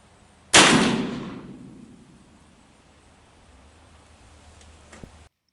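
A single loud, close gunshot from a Pietta 1858 Remington New Model Army revolver cracks sharply, then rings out in a long decaying echo over quiet outdoor background, with a faint tick near the end.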